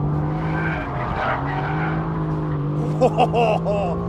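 A Mercedes-AMG GT S pushed hard through a race-track corner after the corkscrew, its engine note rising and falling in strong harmonic sweeps, with a brief burst of tire squeal near the end and a voice talking over it.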